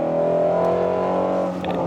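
A Shelby GT350R with carbon fiber wheels drives a road with dips and elevation changes. Its engine holds a loud, strong harmonic note close up, then eases slightly near the end.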